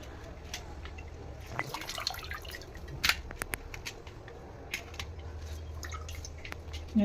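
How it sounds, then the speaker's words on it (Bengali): Water squeezed from grated radish drips and trickles in small irregular splashes, with occasional sharper clicks and handling noises nearby. "এটা ভালো করে নিচড়ে নেবো। মূলো কত পানি বেরিয়েছে দেখেন।"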